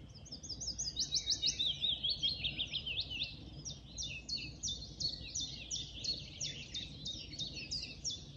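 Chiffchaff and willow warbler sing together in Hembury woods at dawn in May, a bright, continuous run of high chirping phrases over a soft woodland backdrop with no talking.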